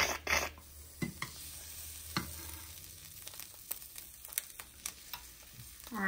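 Metal spatula scraping and stirring in a nonstick pan, one of either an Emeril Lagasse Forever Pan or a Ninja Foodi NeverStick pan, with faint sizzling; irregular close scrapes and clinks across a quiet kitchen background.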